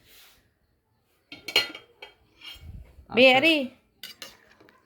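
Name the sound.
scooping food with a ladle, dishes and cutlery clinking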